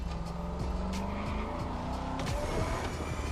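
A 1957 Brougham's engine in The Crew Motorfest climbs through rising harmonic revs with a gear change, loud and steady, overlaid by tire squeal and skidding noise.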